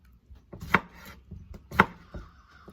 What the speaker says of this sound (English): I'm gonna cut this onion into pieces